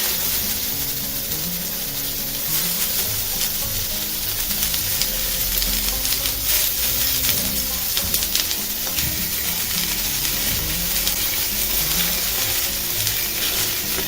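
Beef picanha sears on a very hot flat griddle, giving a steady, loud sizzle with crackling spatter that runs unbroken for the whole stretch, with no talk over it.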